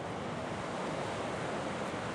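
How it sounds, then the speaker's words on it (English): Ocean surf on the Cabot Trail coast of Nova Scotia, a steady broadband wash of breaking waves mixed with wind buffeting the microphone, continuous and fairly loud with no voices. "There's the waves."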